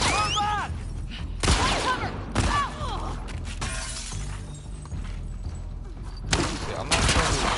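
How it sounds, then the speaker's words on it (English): Gunfire and shattering impacts in The Last of Us Part II, several loud sharp bangs spaced out over a busy combat background, with a voice talking in between. "I'm not sure who's shooting."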